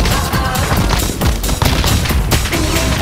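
Dense, continuous gunfire in Call of Duty Warzone, loud bursts and rapid shots layered over each other for the whole stretch with no pauses.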